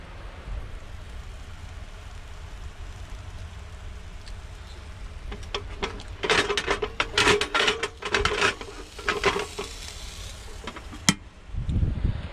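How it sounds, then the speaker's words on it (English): Sausages for breakfast sizzling in a pan outdoors, a soft steady crackle that swells into louder, denser spitting pops midway, close and continuous. "sizzling bangers"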